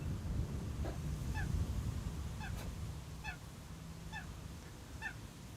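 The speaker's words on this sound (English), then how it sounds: "Chris Coot is also enthusiastic." A coot gives repeated sharp, high honking calls near Amsterdam Schiphol Airport, about one every second, loud and close over a low rumbling background.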